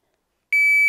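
Silence, then a single sharp electronic shot timer beep starts abruptly and holds at one steady high pitch, loud and close.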